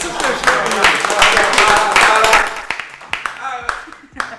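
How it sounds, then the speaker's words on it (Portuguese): Applause in a podcast studio: a dense burst of clapping over lively talk that thins after a couple of seconds into a few scattered, louder single claps. "uma salva de palmas para"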